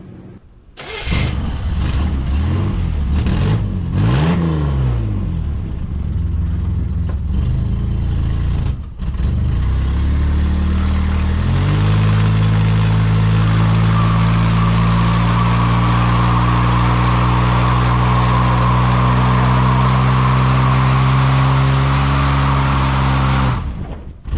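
A Buick car engine cranks and fires, then revs hard and holds high, loud rpm through a burnout. The roar stays close and constant for about twenty seconds before cutting off, with no speech.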